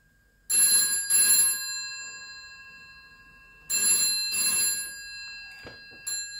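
A stage telephone line simulator rings after zero is dialed: two loud double-ring bursts of an electric telephone bell, separated by a few seconds of quiet, then a brief click near the end.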